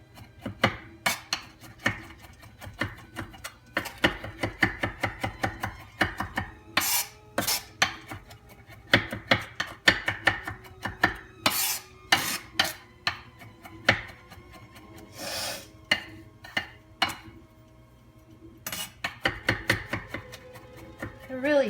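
A knife chops ingredients small on a board for a spaghetti and meatball sauce, with quick irregular bursts of close, sharp taps and short pauses between runs, and no talking.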